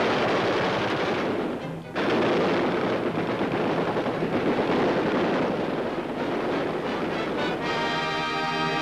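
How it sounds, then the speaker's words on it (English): Machine guns firing live rounds just over the heads of soldiers in training, a dense continuous rattle of rapid shots heard through heavy wind noise, loud throughout with a brief dip near the start. "Machine guns spatter real bullets just above their heads."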